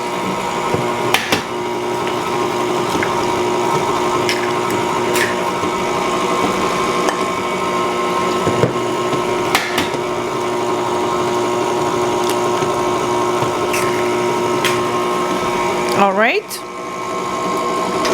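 Electric stand mixer beating butter and sugar for lemon cupcakes at low speed, a steady motor whir with a rhythmic beater hum running throughout, close and fairly loud, with a brief clatter near the end.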